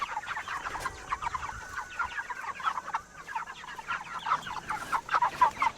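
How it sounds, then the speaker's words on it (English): Six-week-old broiler chickens on a homestead keep up a busy, overlapping clucking and chattering, close and moderately loud, with no voices. "6-week-old broilers."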